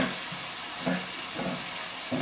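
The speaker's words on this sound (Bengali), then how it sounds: "এবার পেঁয়াজ আর টমেটো কুচিটা ভাজা ভাজা মতো হবে" Onion and chopped tomato fry in a pan with a dense, continuous sizzle, with faint stirring bumps recurring roughly every half second, close and steady.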